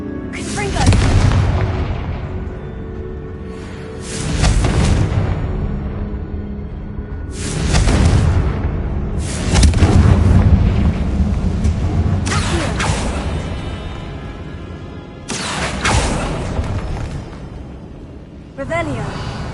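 Confringo fire spell blasts from Hogwarts Legacy boom out in a series of about six heavy, whooshing explosions spaced a few seconds apart, with a rumbling bed and game music filling the gaps between them.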